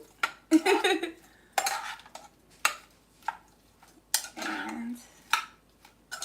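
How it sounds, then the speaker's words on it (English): Scampi being stirred in a frying pan while eggs and grease heat for a copycat Red Lobster feast, with repeated clanking scrapes of a utensil against the pan at a steady rhythm and a brief word of talk. "Our scampi needs to be stirred."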